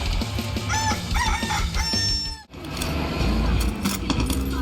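Chickens in the video game Far Cry 6 cluck and crow in quick bursts close up, with a short squawk, over steady game background noise, then a brief pause and more fowl sounds.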